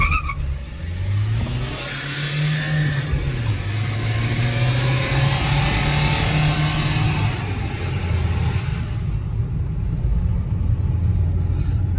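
A Mahindra Scorpio and an XUV 300 race side by side from a standstill in a drag race. Engines rev loudly and up close, with rising and shifting tones that surge then settle, and no talk over them.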